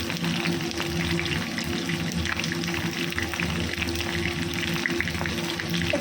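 Pointed gourd (potol) pieces frying in hot oil with nigella seeds and a green chili, a steady dense sizzle and crackle running continuously at close range, with no talking.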